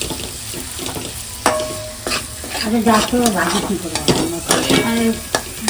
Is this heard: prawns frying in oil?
yes